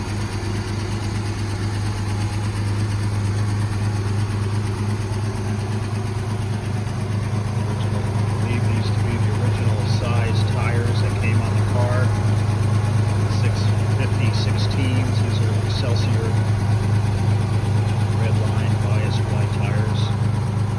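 A 1958 Jaguar XK150 idling after a cold start, a steady low rumbling engine note with a faint mechanical tick, running evenly throughout at close range.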